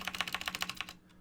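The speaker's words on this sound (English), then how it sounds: "right here, we just type in blog" Quick typing on a computer keyboard while building a WordPress site, a close, even run of about ten light key clicks, then a brief pause and one more click.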